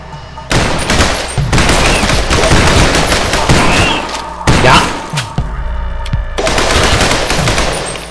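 Shotgun gunfire in the video game Garage comes as loud, dense bursts of blasts and impacts that nearly fill the clip, with brief gaps between volleys.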